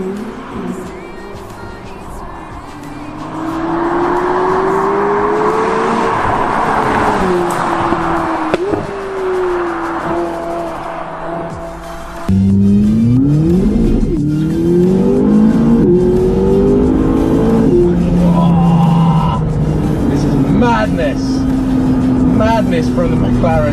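A McLaren 570GT sports car accelerates hard, its engine rising in pitch through several gear changes, loud and close from inside the cabin, with a voice talking over it.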